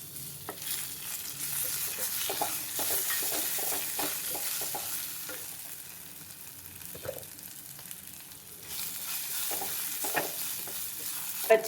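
Brinjal pieces frying in a pan with garlic, fenugreek and cumin in hot oil, a steady close sizzle broken by repeated scraping and clatter of a spoon stirring, with no talking.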